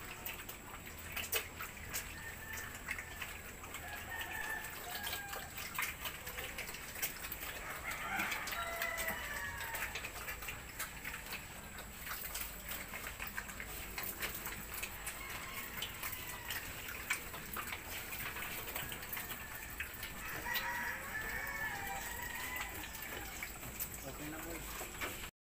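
A rooster crows and chickens cluck faintly amid steady background noise, with a person talking over the birds throughout.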